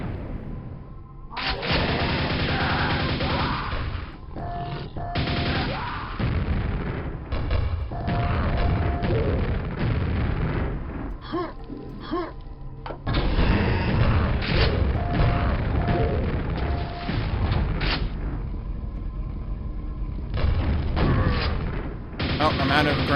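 Grenade blasts and rapid nail gun fire in the first-person shooter Gravelord, loud, dense bursts of booms and mechanical shots that pound almost without pause, with a brief lull midway.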